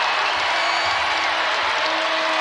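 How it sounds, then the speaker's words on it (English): A basketball crowd at an NCAA women's tournament second-round game between Indiana and Oklahoma stands, cheers and claps, a steady roar of applause filling the arena at moderate volume. "This crowd is on their feet."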